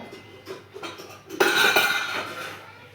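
A small child plays with kitchen pots and a pressure cooker, making a few light clinks and then a loud metallic clatter of pans banging and rattling close by.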